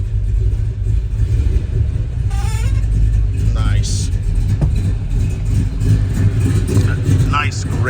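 A 1970 Dodge Challenger with a 440 Six Pack V8 idles after a cold start, a steady low rumble running throughout while a voice speaks briefly over it.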